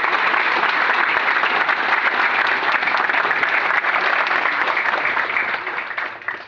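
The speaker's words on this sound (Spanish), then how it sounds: "Les pido un aplauso al pueblo y gobierno de Honduras." Audience applause for the people and government of Honduras at a speaking event, a dense sustained clapping that holds steady and loud for several seconds before starting to fade at the end.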